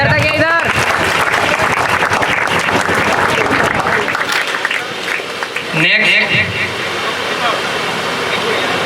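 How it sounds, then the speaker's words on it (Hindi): Loud applause from an audience at a school Teachers' Day celebration fills the room, dense clapping that continues steadily with voices mixed in. "जोरदार तालियां।"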